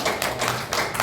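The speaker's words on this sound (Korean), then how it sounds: "우리 박수로 격려의 박수로 하도록 하겠습니다" A church congregation at a Sunday service gives a short burst of encouraging applause, with dense, steady clapping that fills the room.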